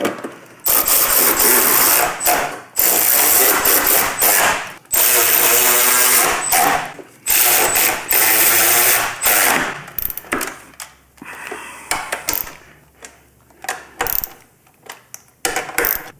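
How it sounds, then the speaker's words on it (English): Power tool running 1/2-inch bolts into a Harley-Davidson Road Glide inner fairing during an Advanblacks install, heard as a string of loud, close bursts of whirring and ratcheting broken by short pauses and softer clicks near the end. "Gonna get our 1/2-inch bolts ran in"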